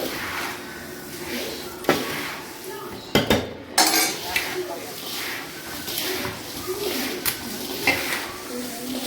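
A metal spoon scrapes and clinks against a metal pan while puffed rice is stirred in a village kitchen, with irregular knocks and rattles under a voice as she talks.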